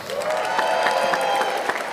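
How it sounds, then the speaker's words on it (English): An audience at a Black History Month celebration hosted by the mayor claps in steady, sustained applause, a dense patter of hands throughout, with a faint tonal background underneath. "give them some warm and rolling applause."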